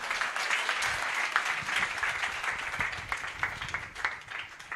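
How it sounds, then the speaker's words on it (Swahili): A congregation at a church deliverance service applauds, a steady crowd of many hands clapping at moderate distance with a dense, continuous texture and no clear speech over it. "Mpigeni makofi."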